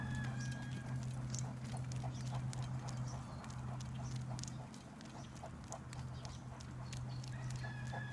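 A horse trots steadily while pulling a sulky cart, its hooves clip-clopping in an even rhythm over a constant low rumble of wheels and motion, fairly close.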